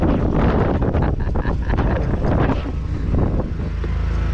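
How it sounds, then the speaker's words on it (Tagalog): Strong wind with rain roars and buffets the microphone at a boat drydock, in continuous loud gusts, with a low rumbling blast throughout. "napakalakas ng hangin"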